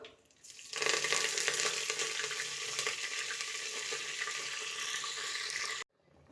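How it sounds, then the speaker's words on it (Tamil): Fennel seeds and curry leaves frying in hot oil for a tempering, a loud, dense crackling sizzle that bursts in after a quiet start, holds steady, then stops abruptly. "நல்லா சோம்பு பொரியுது."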